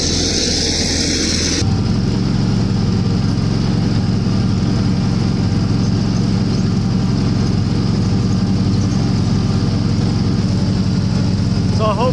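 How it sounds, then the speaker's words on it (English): A tractor pulling a scarifier across a cricket square drones loudly and steadily at close range, a constant heavy engine rumble throughout while a person talks over it. "hopefully you can hear me over the din of the tractor that we're sat on"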